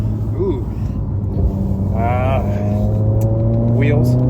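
A Ferrari 458 engine droning close by with shifts breaking the pitch, while people talk over it.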